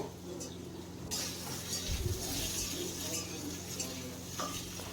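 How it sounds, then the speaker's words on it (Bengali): Potatoes fry lightly in a pan and are stirred, with a soft, quiet sizzle under intermittent scraping and faint utensil clinks against the pan. "আলুটাকে প্রথমে দিয়ে এইভাবে একটু ভেজে নিতে হবে, তবে একদম লাল করে না, হালকা করে ভেজে নিলেই হবে।"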